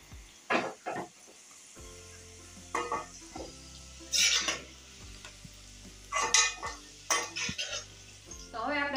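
Fried ivy gourd and potato pieces being lifted out of a pan of hot oil, with soft sizzling and a few scrapes and clinks of a spoon against the metal at irregular intervals, close by and with no talking.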